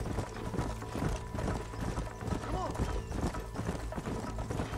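A Red Dead Redemption horse trots with a steady clip-clop of hooves close by, a faint whinny-like tone midway, and someone speaking over the hoofbeats.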